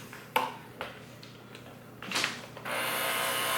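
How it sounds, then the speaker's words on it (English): An electric mixer beats peanut butter and carrot dog cake batter: a few sharp clicks and taps as it is set in the bowl, then a steady, loud whirring drone starts and runs to the end. "And then we're gonna use the mixer because I just feel like using this mixer."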